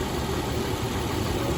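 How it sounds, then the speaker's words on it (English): A 2004 Toyota 4Runner SR5 4x4 with the 4.0 engine idles steadily and loudly up close, a constant rumble with a light ticking from the valve train running throughout. "My phone does pick up small engine valve train noise, so it'll sound a little more ticky than"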